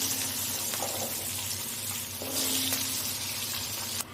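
Potatoes and papaya fry in a pan with cumin powder, turmeric and green chillies, giving a steady close sizzle with occasional soft stirring scrapes.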